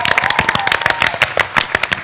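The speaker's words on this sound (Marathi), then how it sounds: "आता जोरदार सगळ्यांसाठी टाळ्या वाजवा." Studio audience at a Marathi comedy show bursts into brisk applause, a dense patter of many hands clapping with a faint voice briefly audible beneath.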